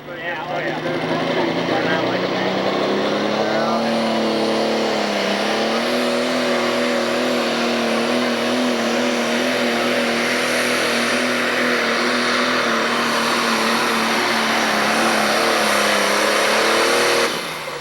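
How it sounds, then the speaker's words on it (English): A Pro Stock pulling tractor in the 7,500 lb Super Stock class runs down the track at a 1996 Freeport, Illinois pull. Its engine roars loud and sustained, with pitch climbing and holding under a crowd and an announcer. "now he's going to run it again"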